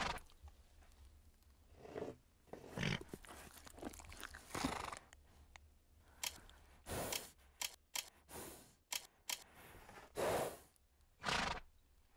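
A horse neighs in a horse riding video game among a string of short bursts: snorts, crunchy chewing and rustling clicks separated by quiet gaps, with no speech.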